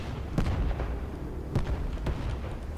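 Destroyer deck guns from a modded naval combat game fire three sharp, thunky reports with short tails over a constant low rumble, with no voices.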